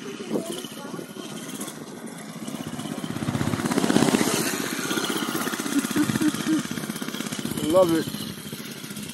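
Small race kart engine buzzes and revs in bursts as a young girl drives it on her first outing, surging louder mid-clip and again near the end, with adults cheering and talking over it.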